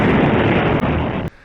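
Loud, close sonic boom from a fast object passing the speed of sound, a sustained roaring blast broken by two sharp cracks, the second cutting the noise off abruptly.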